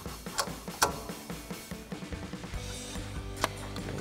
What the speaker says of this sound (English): Now we can go ahead and tighten down our upper mounting nuts using our 14 mil ratcheting wrench.